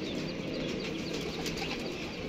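A loft pigeon making faint, continuous low cooing with light rustling, quiet and steady throughout, no voices.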